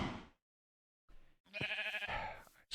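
Sheep bleating in Minecraft, a few short blocky bleats after a silent gap, fairly close and clear with no talk over them.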